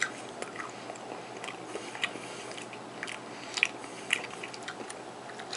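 Close, soft chewing and biting on Parkview cocktail sausages dipped in Dollar Tree barbecue sauce, with faint wet squishes and a few sharper crunchy bites over a low steady background, no talking.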